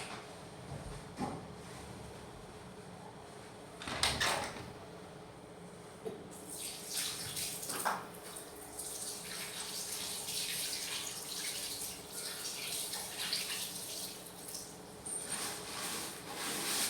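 Hands are washed under a running tap before a clinical exam consultation, a steady splashing water rush with brief knocks and rattles early on, fairly close and continuous.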